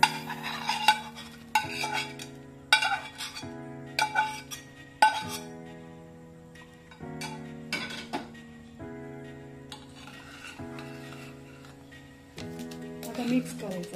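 A spoon stirring muskmelon pulp into milk in a pot, with periodic metallic clinks against the vessel over steady background music.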